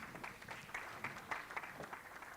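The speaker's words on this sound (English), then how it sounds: "So another round of applause." Faint, distant applause from the audience at a conference panel, a soft steady patter of many hands heard from far back.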